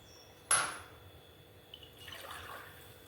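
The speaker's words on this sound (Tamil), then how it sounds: "ஒரு கிளாஸ் தண்ணி ஊற்றிக்கலாம்" A sharp clink, then a brief soft trickle of water pouring into a glass for making tea, quiet and close.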